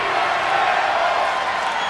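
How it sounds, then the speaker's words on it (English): Crowd noise from a wrestling arena in WWE 2K24: a dense, steady roar of many voices chanting and cheering, loud and continuous without a break. "And the crowd stating they want tables."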